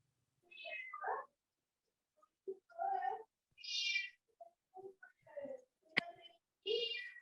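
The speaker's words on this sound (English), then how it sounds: "listening to Sandra like talk to her cats is great" A house cat meows several times in varied, drawn-out cries with pauses between, fairly faint, alongside a sharp click and scattered soft sounds.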